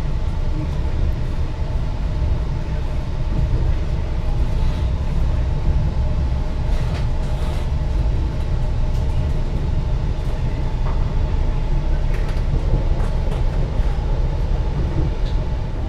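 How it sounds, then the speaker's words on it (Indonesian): The Matarmaja economy train passes through Cirebon Prujakan station, a steady, loud rolling rumble of wheels and railcars filling the whole stretch without a break. "Nah, itu dia kereta api Matarmaja."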